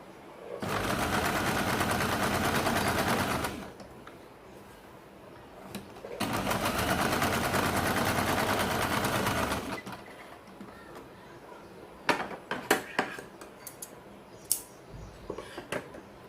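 Sewing machine stitching tuck points on a katori blouse, in two steady whirring bursts of about three seconds each with a pause between, then light clicks and handling noises at the end.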